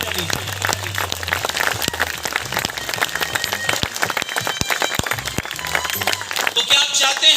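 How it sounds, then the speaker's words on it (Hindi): Dense, continuous applause from an audience at a crowded indoor gathering, rattling steadily throughout with a voice and some low tonal sound underneath. "हाथ ऊपर करके अपनी सफलता, अपनी कामयाबी के लिए दिल खोलकर तालियां बजा लीजिए।"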